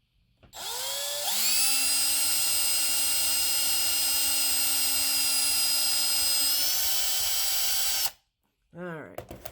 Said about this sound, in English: usually when I drill more than one hole in a thing like this